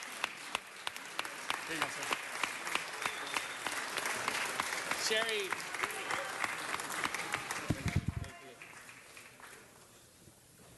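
Crowd in a city hall state room applauds 2015 Narbonne High School champion athletes, sustained clapping for about eight seconds before fading, with people speaking briefly over it.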